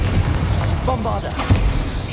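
Bombarda spell blast from the Hogwarts Legacy video game, a booming explosion-like burst amid continuous combat effects, with a sharp low thump near the middle and steady game noise throughout.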